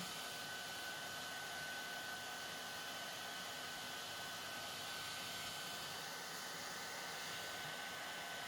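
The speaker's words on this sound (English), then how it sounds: "So this is the hair dryer that I'm going to use now." A hair dryer blows continuously with a steady, even roar and a faint high whine, unchanging throughout, used to heat a phone for battery replacement.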